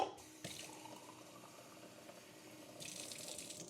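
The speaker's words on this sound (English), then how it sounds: "No, put some more water in there." Water is poured into the reservoir of an ear jet cleaner, a short splashing fill with a bright trickling tail, heard close and alone.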